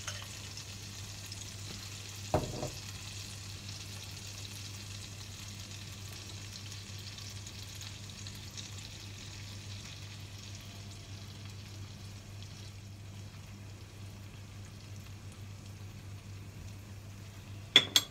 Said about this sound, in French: Maintenant, vous allez voir que le miel va bouillir.